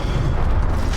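A Confringo blasting spell explodes in Hogwarts Legacy on Nintendo Switch, a brief loud booming burst with deep rumbling low end that fills the moment without pause, no voices over it.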